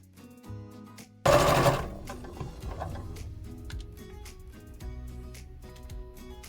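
A sewing machine runs steadily and close up, stitching velcro feature shapes onto an activity quilt, with a loud burst at the start and then a continuous mechanical whir and tick.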